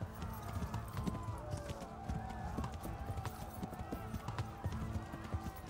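A horse in the medieval game Kingdom Come: Deliverance gallops with a steady, rapid clip-clop of hooves under a faint, busy background.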